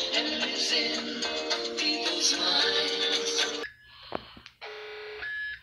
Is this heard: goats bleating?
no